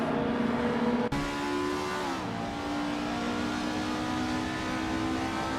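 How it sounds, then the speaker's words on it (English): 1996 Peugeot 106 Rally S2 racing engine in a racing video game, a loud sustained high rev with a sharp gear-change break, then the pitch sliding down and holding steady. "Bot Crash is driving a 1996 Peugeot 106 Rally S2"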